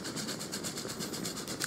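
Road switcher locomotive hauling a local train in the railway game Transport Fever 2, a steady low rumble with rhythmic clickety-clack of wheels over rail joints, moderately distant and continuous.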